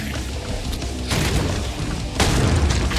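Enemy gunfire in the shooter Hellbound, heavy booming shots and bursts hitting in loud waves over a dense, rumbling game soundscape, with no voices.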